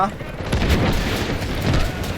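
Dense gunfire and booming explosions from the Delta Force shooter game rumble continuously, loud and layered, with heavy low-end blasts and rapid shot bursts packed tightly together.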